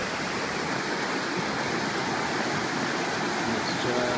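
A waterfall at the 5 mile bridge on Eagle Creek Trail in the Oregon Gorge gives a constant, loud, full-bodied roar of falling water, close by and unbroken from start to end.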